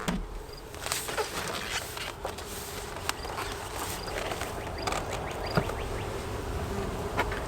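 Honey bees buzz around an open white-painted hive, a steady close swarm drone with scattered individual insects whining past and a few sharp clicks, no voices.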